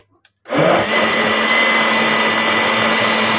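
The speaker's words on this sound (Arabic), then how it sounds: "بصوا هنا الخلاط بيمشي بالعافيه" After a brief quiet start, an electric blender mixing biscuit dough with milk kicks on and runs loud and steady with a strained whirring motor hum to the end.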